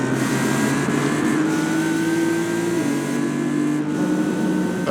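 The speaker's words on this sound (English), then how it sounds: "That engine screams, man." A race car engine screams at high revs around Brands Hatch in a racing game, a loud sustained whine with shifting pitch that steps down briefly as it shifts, alone with no talk.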